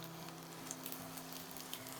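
Radish mutton frying in oil in a pan, a soft steady sizzle with faint crackles, quiet and continuous.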